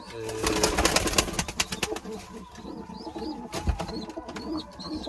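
Istanbul pigeons coo softly nearby amid fluttering wings and shuffling noises, with a few higher chirps in the background.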